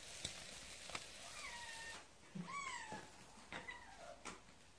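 Several cats meow near a fireplace where fish is being cooked: a handful of distinct rising and falling meows spaced across the stretch, fairly close but soft, with no talk.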